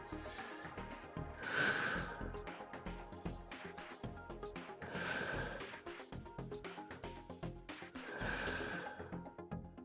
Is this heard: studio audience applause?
no